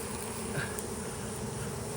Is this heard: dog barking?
no